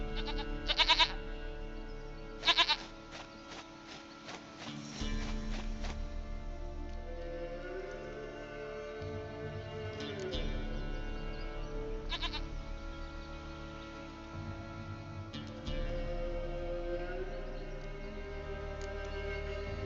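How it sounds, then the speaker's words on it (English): A goat bleats in The Witcher 3 video game, with two short sharp bleats early on over a continuous bed of game music and ambience that carries on steadily to the end. "Goat of mine, dearest, sweetest goat."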